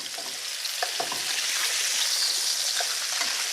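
Pork tenderloin frying in oil in a pan, a steady close crackling sizzle with occasional sharper pops, continuous and without talk.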